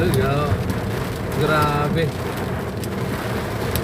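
Sudden heavy downpour of rain drumming on a surface, a steady dense wash of noise throughout with some wind, while someone talks over it.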